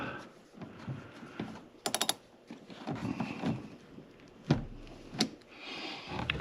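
A 13mm socket wrench undoing bolts on a BMW E39 windshield cowl, quiet intermittent ratcheting clicks and metallic taps with short pauses between them.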